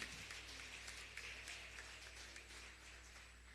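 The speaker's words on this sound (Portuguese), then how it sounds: "Vamos aplaudir o Senhor por esse cântico" A church congregation claps together. The applause is faint and distant, a soft patter of many hands over a steady low hum that fades slightly toward the end.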